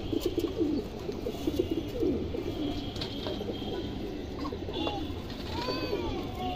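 Several pigeons, including a silver-style female, coo in overlapping low burbling phrases, close and continuous, with a few thin higher chirps late on.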